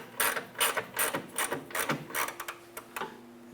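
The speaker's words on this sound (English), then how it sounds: "So again, the 17 millimeter wrench." A 17 mm ratchet wrench works a rear upper control arm bolt on a 2003-2011 Honda Element, giving a close, steady run of sharp clicking bursts in an even rhythm, with no talking.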